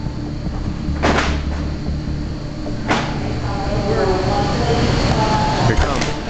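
A heavy warehouse freezer door at a grocery store bangs twice with loud, sharp knocks over a constant mechanical hum.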